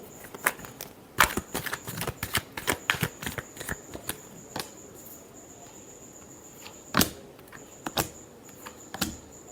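Tarot cards being shuffled nearby, giving quick bursts of crisp papery clicks and snaps that come in clusters and then thin out to a few sharp taps. A faint steady high tone runs underneath, and no one speaks.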